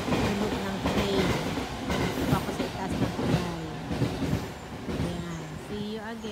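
A train rolls past on rails, with rhythmic clickety-clack and metallic wheel noise at moderate distance, continuous over several seconds with some faint background voices.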